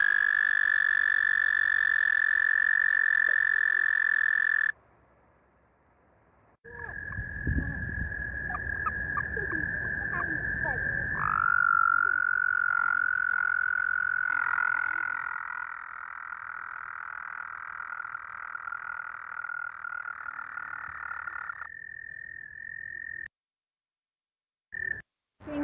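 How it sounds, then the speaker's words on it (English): An American toad trills in a long, steady, high-pitched run, broken by a gap and a burst of broadband noise before the sustained trill resumes, with a faint tonal call continuing to the end. "Next one of my favorites is the American toad. They have a very nice little trill."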